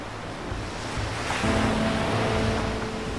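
Ocean surf rolling and breaking onto a beach where a young sea turtle heads for the water, a steady broad wash of waves with a rising surge midway, close and fairly loud, with no voices.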